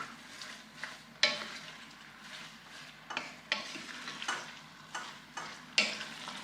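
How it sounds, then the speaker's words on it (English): Onions cook down in a pot for a spicy homegrown tomato soup, sizzling softly and steadily while a spoon stirs and scrapes at regular intervals, each stroke a brief, sharper rasp over the quiet frying. "we're gonna start cooking down the onion"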